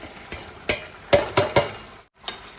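Fish pieces going into a pan of boiling fish curry, giving a few close, sharp sizzles and splashes with stirring scrapes, bursts spaced out over a couple of seconds with no one talking.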